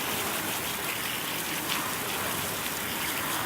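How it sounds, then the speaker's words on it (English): Water from a hose sprays steadily over a freshly washed vehicle, rinsing it from top to bottom, in a continuous close rushing splash that runs without pause. "Go ahead, start rinsing from the top to the bottom."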